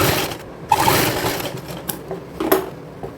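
A sewing machine runs in short bursts while topstitching a patchwork kurti, a steady whirring drone with a few brief clicks and handling noises, close and fairly loud with no talking.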